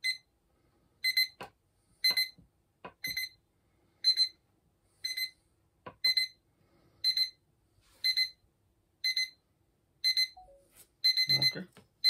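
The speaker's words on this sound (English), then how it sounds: "So that shows now the alarm going off." An alarm clock beeps in regular repeated bursts at close range, with scattered clicks and handling noises between them.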